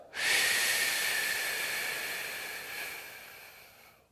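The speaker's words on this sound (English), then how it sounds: "So we're breathing in for 3," During a beginner warm-up exercise, one slow, controlled breath out hisses for about four seconds, close and steady, fading gradually at the end.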